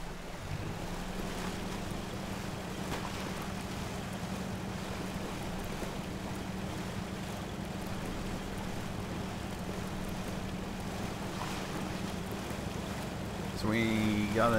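Rushing river water in the off-road driving game Spintires MudRunner, a steady broadband roar that runs continuously under a low engine drone, loud throughout with a brief swell at the end.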